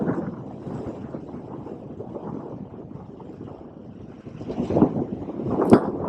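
A 2005 Yamaha V-Star 650 cruiser motorcycle rides along and accelerates, its engine a steady low rumble heavily buffeted by wind noise, growing louder toward the end.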